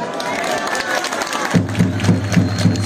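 A crowd at a Dikili political election rally applauds in a rippling, loud spread of clapping and cheering, with rhythmic thumping beats joining in partway through.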